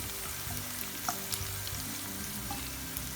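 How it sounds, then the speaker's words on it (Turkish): Peppers sautéing in a pan give a steady, soft sizzle with occasional light clicks of stirring, continuous and close with no voices. "Biberler iyice sotelensin, yumuşasın diye."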